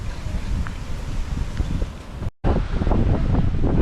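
Gusty wind roars against the microphone in heavy, uneven blasts on a mountain hike near the summit, briefly cutting out before the buffeting resumes.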